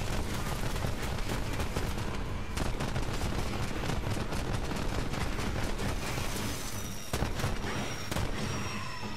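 Rapid, dense gunfire from the video game Borderlands 3 rattles on without pause, with bursts of automatic shots and explosive blasts layered together, loud and continuous.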